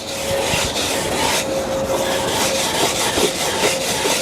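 Steel wool scrubs leftover finish off old furniture in a steady, loud abrasive rasp, with continuous back-and-forth strokes and no talk.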